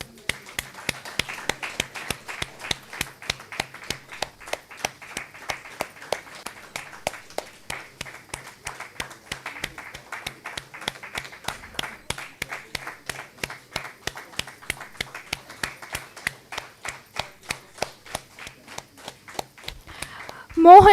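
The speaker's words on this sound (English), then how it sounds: "Guys, big round of applause." Applause at an alumni meet and book launch celebrating a college anniversary, sounding as a thin, fast run of individual claps continuing for about twenty seconds before a louder burst right at the end.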